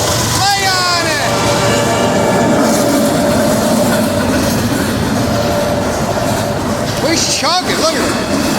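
A Norfolk Southern intermodal freight train passes at speed, about 50 mph, with a steady loud rumble and rail roar throughout, sharp horn-like squeals near the start and again near the end, and an excited voice talking over it.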